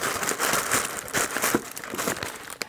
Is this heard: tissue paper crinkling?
yes